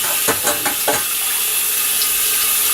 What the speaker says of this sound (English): Now you can wash it like how you wash your plates.